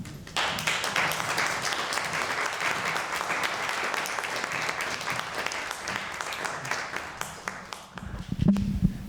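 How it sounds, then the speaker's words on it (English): A large audience applauds steadily after a talk at a panel event on UN peace operations. The dense clapping holds for about eight seconds, then breaks up into a few scattered claps and low murmurs near the end. "Let's just give one more round of applause for Stefan."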